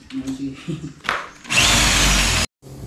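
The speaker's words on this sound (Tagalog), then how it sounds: "Ginamitan ko na rin ang barena mga kapanalig" A power drill whirs loudly for about a second in one steady burst, then cuts off abruptly, following a few brief knocks and a voice.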